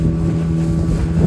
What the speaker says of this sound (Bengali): কয়েকজন মিলে ভাড়া করলাম এই স্পিড বোটটি